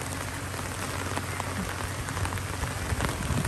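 Heavy typhoon rain pours down steadily, a dense hiss of drops drumming on surfaces with no voices.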